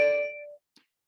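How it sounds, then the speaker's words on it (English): A single bright electronic chime from a phone in a podcast studio, one clear ringing tone that decays over about half a second, followed by a faint click, with no talking. "Whose phone is that?"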